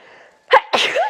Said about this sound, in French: Et je vais éternuer.